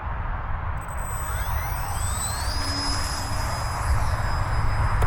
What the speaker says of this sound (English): Okay, Tundra in the air.